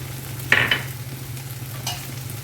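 Cooked lote fish curry being mixed with chopped coriander in a pan: a soft steady sizzle with a couple of brief close scraping stirs, alone without talk.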